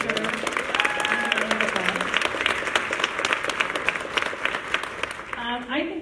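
An audience applauds at a nonprofit info session in York, steady dense clapping that fills the room for several seconds while a speaker's voice carries over it.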